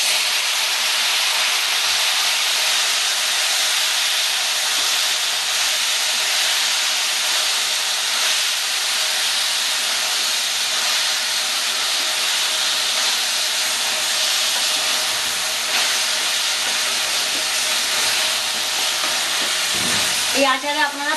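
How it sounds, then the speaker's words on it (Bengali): Sour jujube berries frying in a wok of hot oil with mustard seeds and dried red chillies, a loud, steady close-up sizzle that hisses continuously for about twenty seconds, with a brief clatter of stirring near the end. "কুলটা আমি এবার কড়াইতে দিয়ে দেবো।"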